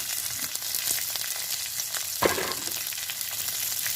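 Dried chillies, garlic cloves, shallots and tamarind fry together in a pan, making a loud, close, continuous sizzle with scattered crackles and one brief stirring clatter.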